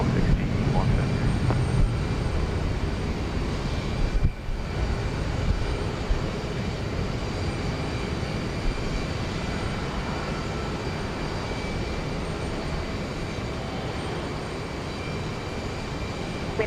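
An airliner takes off from runway 15 right at Houston Intercontinental. Its engine roar is broad and steady throughout, heard from a distance with a slight dip partway through.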